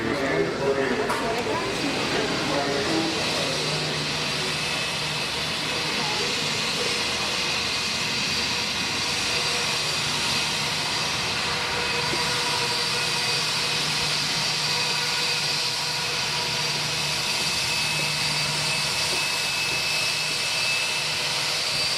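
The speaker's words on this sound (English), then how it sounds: "Oh, it's a jet." A jet airplane roars loudly overhead in a steady broad rush that slowly fades, while people talk beneath it.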